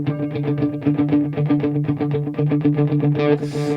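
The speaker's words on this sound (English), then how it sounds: "So let's listen to these delays." An electric guitar plays a rhythmic riff soaked in high-feedback repeating delay echoes, the notes smearing into a pulsing groove with no talking.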